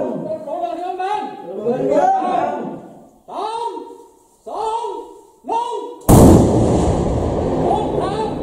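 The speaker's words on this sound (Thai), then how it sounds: "ต่อไปเป็นการจุดระเบิดนะครับ" Shouted voices calling out, then a sudden loud blast as two bombs found in a fishing pond are detonated, and a roaring rumble with debris noise continues after it.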